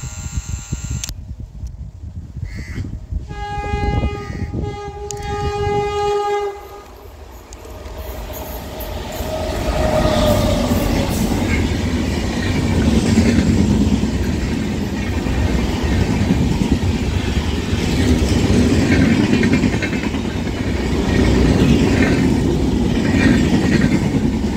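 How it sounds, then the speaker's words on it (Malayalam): The Thiruvananthapuram–New Delhi Kerala Express passes Kazhakuttam station in Kerala. It opens with a few sustained horn blasts, then a loud, close rolling rumble of wheels and carriages runs steadily to the end. "Thiruvananthapuram New Delhi Kerala express കഴക്കൂട്ടൻ station pass ചെയ്യുന്നു"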